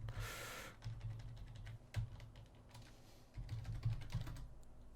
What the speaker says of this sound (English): Then we type in police 2 for this one.